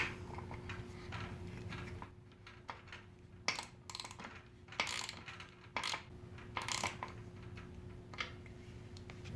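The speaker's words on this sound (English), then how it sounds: "To tighten it down, I once again use my 14mm socket." A 14mm socket wrench tightens a square-taper bicycle crank fastener, giving faint clicking ratchet ticks in irregular short bursts over a low steady background hum.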